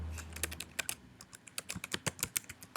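Rapid clacking of a computer keyboard as a search is typed into a browser bar, a dense irregular stream of close, crisp key taps with no voice.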